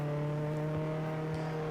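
A car with a level 1 engine in the game Jailbreak drones along at a steady pitch, a continuous hum with faint bumps beneath.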